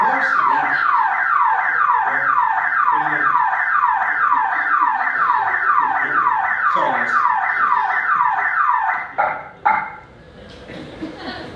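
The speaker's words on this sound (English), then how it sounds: "You set off the alarm, dude." A theme park attraction's alarm blares loud and steady in a fast repeating warble, cutting off abruptly near the end as people start talking.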